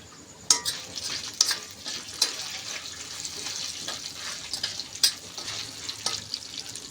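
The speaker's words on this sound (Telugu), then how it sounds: "తిరగమూత వేస్తున్నాను" Tempering crackling and sizzling in hot oil for a ridge gourd chutney, with sharp pops and spits over a continuous fizz, fairly close and without talk.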